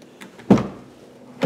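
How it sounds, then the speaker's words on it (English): A 2015 Volkswagen Golf R (MK7, US version) door with self-positioning detents clicks open: a soft click, then a firmer thunk as it settles at a resting point, and a second thunk about a second later, close and clear with no talk. "as you can see right here is a resting point, but you can stop this door wherever you want"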